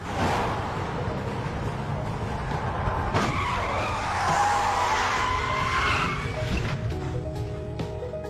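A car's tires skid and squeal loudly and close as it swerves hard across the road to block an oncoming car, the screech rising in the middle and fading into engine rumble.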